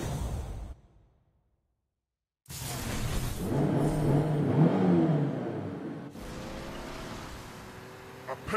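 A car engine revs in the Mobile Legends video game, a loud whooshing surge with rising tonal lines that cuts out to silence briefly, then returns as a sustained roar before fading into a smoother whir.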